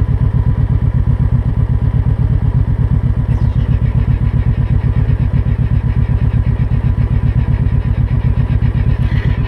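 A 2012 Kawasaki Vulcan Vaquero motorcycle idles close by with a steady, even engine throb that holds for the whole stretch.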